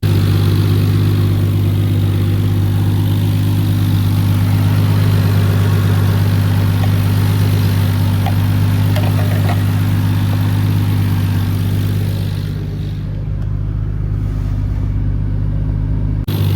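A car engine idles steadily while warming up with the heater running, a low, even drone that holds for the whole stretch and dips slightly quieter near the end.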